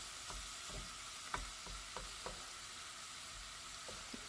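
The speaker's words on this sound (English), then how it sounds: "I'm just going to continue the saute and breaking the ground beef apart" Ground beef sautéing over medium to medium-high heat in a pot for a one-pot lasagna while being broken apart, with a faint steady sizzle and scattered light scrapes and taps of a spoon.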